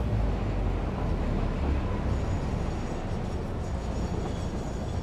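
A train rolling along its track in the factory-building game Satisfactory, a steady dense rumble with broadband rail noise holding constant throughout, loud and continuous, no speech.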